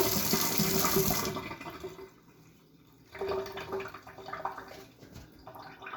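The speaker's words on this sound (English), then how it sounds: "So I'm going into my sink with my dirty grater there." Tap water runs loudly into a kitchen sink, then stops, and a softer splashing rinse follows over a dirty grater, with gurgles and small clinks close by.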